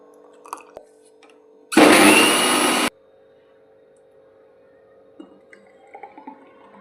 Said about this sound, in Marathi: हे मिक्सरला आपण बारीक करून घेणार आहोत.